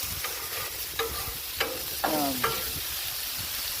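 Steaks and green beans sizzle on a Blackstone griddle in a constant, faint frying hiss, with a few sharp scraping and clinking strokes of a spatula on the metal surface.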